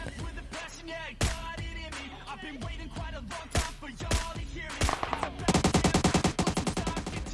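M762 rifle fire in PUBG Mobile, with single sharp shots at first and then a rapid automatic burst near the end, loud and close, under game sounds and a voice talking.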